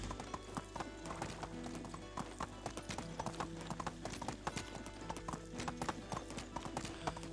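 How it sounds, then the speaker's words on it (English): Horse hooves clip-clop in the medieval life-sim game Medieval Dynasty, a quick steady trotting rhythm that runs throughout over a constant low ambient bed, moderately close and fairly quiet. "Now that we have a horse, we're making good time."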